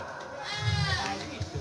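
A PE (Etawa crossbreed) goat bleats at a regional goat contest in Lampung, a loud nearby bleat amid crowd noise while an announcer talks.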